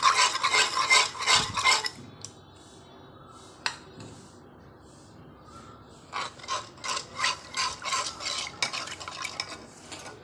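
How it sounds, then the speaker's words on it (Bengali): Mustard powder stirred into water with a spoon in a bowl, giving bursts of quick scraping and rasping strokes, a quieter gap with a single clink, then another run of rhythmic stirring, close and alone without speech. "এবার এই জলেতে অল্প অল্প করে সর্ষে পাউডার দেব, দিয়ে নাড়তে থাকবো।"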